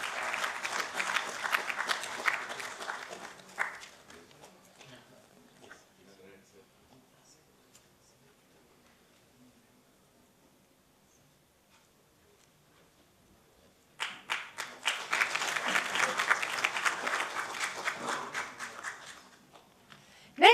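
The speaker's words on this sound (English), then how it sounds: "Can we have a huge round of applause, please?" A crowd applauds at a national business excellence awards ceremony in Vigyan Bhavan, New Delhi. Dense clapping fills the room, fades to near silence, then swells again into a second strong round.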